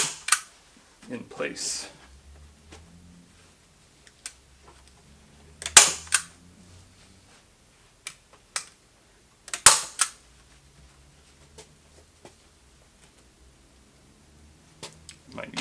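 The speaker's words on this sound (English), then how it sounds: "I'm just going to staple it" A stapler drives staples into carpet on a cat brush, giving a few sharp, close snaps spaced several seconds apart, with quiet handling noises and brief speech between them.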